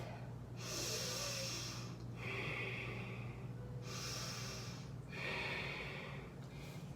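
Deep, slow breaths during a yoga flow come in two full cycles, each a long airy inhale followed by a breathy exhale, heard close and clear over a faint hum.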